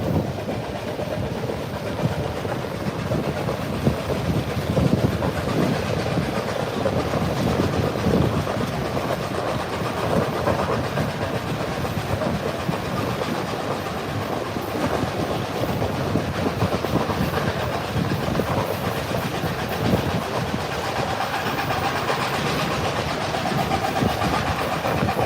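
Steam locomotive 2102 working hard in the distance on an all-day excursion line, a steady rumbling chuff with rail clatter running continuously at moderate level, with no talk.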